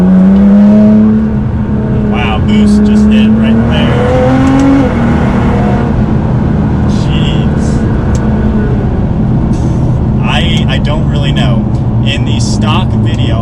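A modified car with turbo boost accelerates hard, its engine droning loudly and rising in pitch over a sustained pull, with a person talking over the roar.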